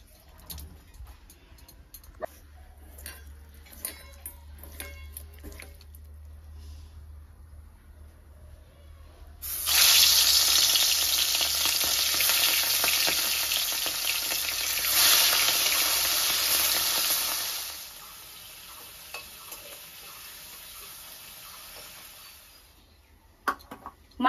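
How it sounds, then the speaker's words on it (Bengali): Bay leaves and whole cumin seeds fry in hot oil in a home kitchen, a loud steady sizzle that starts suddenly partway through and lasts several seconds before dying down, with quieter background sounds before and after. "দেখো তেজপাতার গোটা জিরে ফোড়ন দিলাম"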